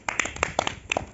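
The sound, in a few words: clapping hands after a story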